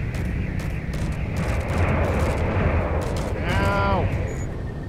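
Ship weapons firing in a space combat video game, a dense rumbling barrage of gunfire-like blasts running continuously and loudly under excited talk, with a rising whine near the end.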